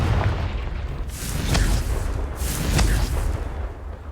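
Confringo explosion spells in Hogwarts Legacy go off as two loud, rumbling fiery blasts with sharp crackling onsets, booming over a constant low game-ambience roar.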